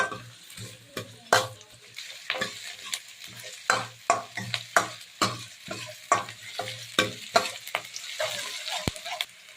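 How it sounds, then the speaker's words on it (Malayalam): Onions and chillies stirred in a pan for moru curry, a rhythmic series of scraping spoon strokes over a soft sizzle, close and distinct, with no voices. "അതിനുശേഷം ഉള്ളി ഇട്ട് കൊടുക്കുക. നല്ലോണം മിക്സ് ആക്കി കൊടുക്കണം കേട്ടോ."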